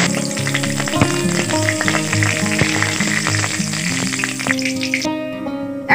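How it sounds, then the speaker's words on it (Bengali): Mustard seeds and curry leaves hit hot oil left over from frying pointed gourd, giving a lively sizzle and crackle beneath prominent background music that drops away near the end. "ওই তেলেই সর্ষে ফোড়ন দিচ্ছি আর এই কারি পাতাগুলো দিয়ে দিচ্ছি"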